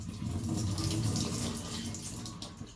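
Water pours and splashes as a tin of Batchelors baby carrots is strained in a home kitchen, a steady rushing flow that tapers off toward the end.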